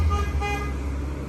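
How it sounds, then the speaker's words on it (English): A car horn honks in a single steady blast over road noise, fairly loud and close, with no talk over it. "honk horn"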